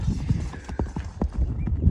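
Hooves of a horse clip-clop close by, likely a dark bay or grey horse being shown for sale in Jalal-Abad, with a steady, uneven rhythm of distinct strikes.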